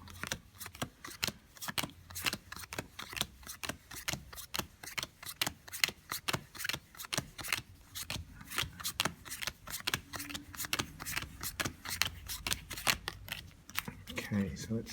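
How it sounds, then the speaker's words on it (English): A deck of cards being shuffled repeatedly, rapid crisp riffles and snaps in quick bursts, close up, with brief pauses between shuffles. "I'm going to give them a good shuffle"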